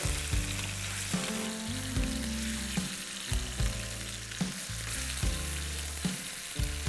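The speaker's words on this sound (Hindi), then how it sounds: "चिकन को पकाना नहीं है, सिर्फ तल लेना है" Steady, dense sizzling of chicken searing in hot oil for Irani-style chicken korma, with occasional stirring clatter and faint low thumps, loud and continuous throughout.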